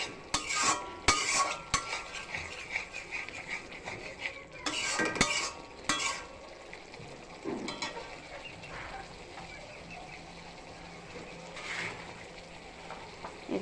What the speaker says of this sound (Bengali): এভাবে সব কিছু দিয়ে ভালো করে মশলাটা কষিয়ে নিব।